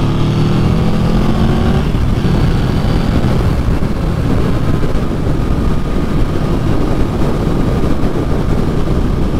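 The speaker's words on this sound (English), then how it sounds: "full wide open throttle in fifth gear" A 2020 Yamaha VMAX 1700 engine roars steadily at wide open throttle in fifth gear, loud and close, with a rising whine in the first two seconds before settling into a sustained drone.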